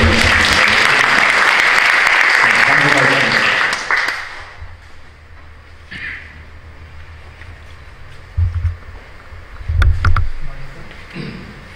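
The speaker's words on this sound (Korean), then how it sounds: "박수 한번 해주시죠." Congregation applause at a Korean Protestant church anniversary worship service at Sangdong Church: dense, loud clapping fills the hall for about four seconds, then drops to scattered faint claps and quiet room noise.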